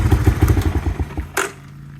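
1986 Honda 250ES Big Red all-original motorbike engine running, a loud, close, chugging single-cylinder putter with a rapid thumping beat that winds down and stops, followed by a brief clunk and then quiet.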